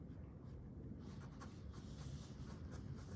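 A Waterman fountain pen with a medium nib scratches steadily across paper, producing a dry, continuous rasping texture with short strokes, close and fairly quiet.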